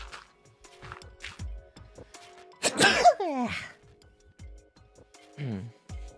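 A single sharp sneeze bursts out mid-stream, loud and close, surrounded by quiet clicks and a few soft vocal sounds, followed by a short trailing voiced note.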